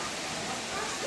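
Heavy monsoon rain at the start of Sawan pours steadily, a dense, even hiss of downpour filling the short stretch without pause.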